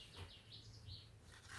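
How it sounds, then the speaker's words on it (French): Birds sing and chirp in a garden, a few high twittering calls drifting in and out, faint and distant over a low steady hum. "je ne sais pas si vous entendez les oiseaux chanter dans le jardin"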